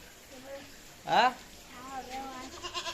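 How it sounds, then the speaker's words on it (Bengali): A goat bleats once, a short wavering cry close by, while people talk in the background. "সায়ন সায়ন ছাগল নিয়ে খেলতে লেগে গেছে"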